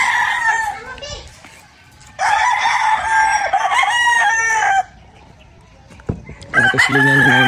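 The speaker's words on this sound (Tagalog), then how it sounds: "Ito silingan ng mga manok" Several roosters crow loudly in long drawn-out calls, with hens clucking in between and children's voices faintly in the background.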